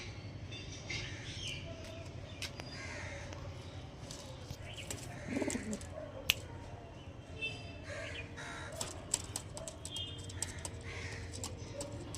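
Madras pigeons coo in a loft among other birds, with crow-like caws and scattered clicks and rustles; low cooing and calls run throughout at moderate distance.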